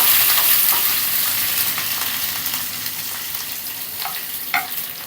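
Chopped green chillies frying in hot oil in a pan, a loud steady sizzle with occasional spatula scrapes and clicks as they are stirred, close up, no voices.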